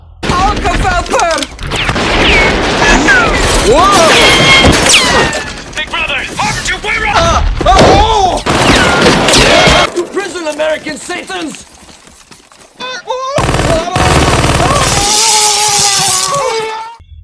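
Comedic war-film gunfire from Hot Shots! Part Deux: loud bursts of shots and explosive booms mixed with music and effects, with a voice speaking over parts of it.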